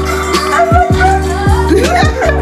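A dog whimpers and lets out short yelping barks, several rising and falling whines in sequence, close and loud, over a steady low background hum.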